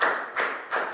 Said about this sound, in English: High five and a big round of applause for Prel,